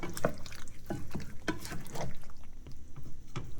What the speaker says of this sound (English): Make sure to mix it well so the potatoes can be covered with the sauce.